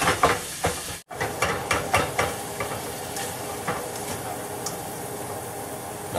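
Ground beef fries and sizzles in a pan, giving a constant close hiss with scraping stir strokes early on and a brief gap near the start, with no talking.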